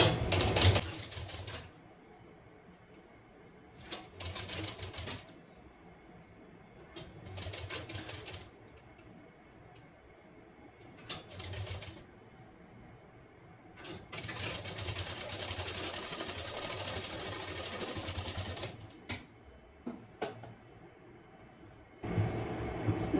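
Sewing machine stitching a princess cut blouse, running in several bursts of rapid mechanical whirring separated by short quiet pauses, close and moderately loud, with a longer steady run in the middle.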